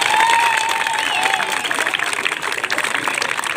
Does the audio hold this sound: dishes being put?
no